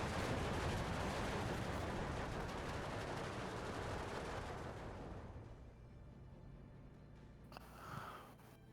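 Dense rolling barrage of 76 mm artillery and mortar half-track fire in the Steel Division 2 wargame, a loud continuous rumble of overlapping blasts that thins out midway, leaving a quieter tail with one sharper thump near the end.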